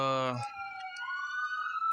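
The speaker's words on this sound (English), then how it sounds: "there's a ambulance" An ambulance siren sounding in steady rising and falling tones, fairly clear, following a brief burst of a voice at the start.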